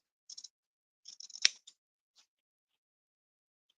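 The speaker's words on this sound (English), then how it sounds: "we are going to cut maybe a scant 1/4 inch away from the stitching line." Sharp scissors snip through fabric a scant quarter inch from a stitched line during reverse appliqué sewing, a few quick close bursts of crisp blade cuts followed by a single faint snip.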